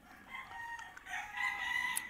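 Chickens crow and cluck at a distance, a rooster's drawn-out call rising near the end over faint background noise, with no talk.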